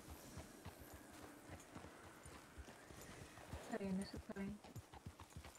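Horse hooves clip-clop at a steady walking pace in a Red Dead Redemption roleplay game, moderately close, while people talk over the footsteps and a brief horse-like vocal sound rises near the end.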